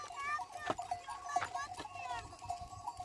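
Sheep bleat in a scattered flock, several overlapping calls with clanking bells nearby, while people talk in the background outdoors.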